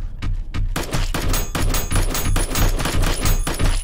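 Rapid, loud gunfire from the horror shooter game Sweeper Zero, a dense string of sharp shots with booming low thumps that keeps going without a break for the whole stretch.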